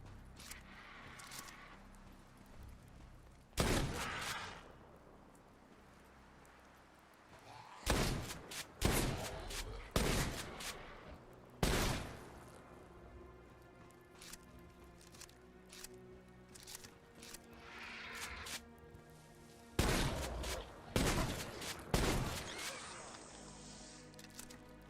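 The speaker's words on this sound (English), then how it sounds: "Shotgun seems pretty good" Shotgun blasts in Fallout 4 boom loudly and sharply, with about eight separate shots spread out irregularly over a low game background and occasional talking between them.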